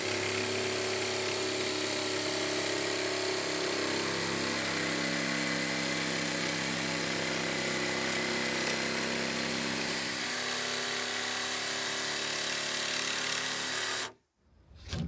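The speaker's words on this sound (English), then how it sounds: "Jigsaw set up, 45 degrees." A jigsaw set to 45 degrees making a bevel cut through PIR insulation board, buzzing continuously and loudly close by for about fourteen seconds before stopping abruptly, with no talking.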